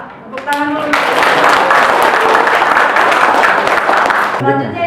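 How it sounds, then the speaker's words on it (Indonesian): A classroom of students claps for several seconds during a mathematics lesson, a steady, close burst of hand clapping framed by brief voices just before and after. "Tepuk tangan dulu."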